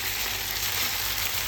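A cooked, fluffy dish being cooked in hot oil gives off a steady, even sizzle with no breaks, moderately quiet and close.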